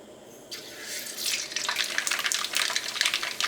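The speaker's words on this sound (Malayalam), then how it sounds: "ഇപ്പോൾ കടുക് നന്നായിട്ട് പൊട്ടിയിട്ടുണ്ട്" Mustard seeds spluttering in hot oil, a dense, rising crackle of pops and spits that starts suddenly and keeps going loud and close, with no talking.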